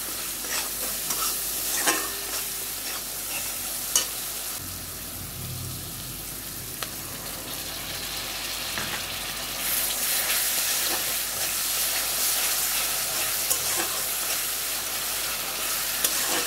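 Spices and turmeric frying in a pan with coriander-leaf paste, stirred steadily throughout; a continuous near sizzle with scraping strokes, growing louder and hissier in the second half.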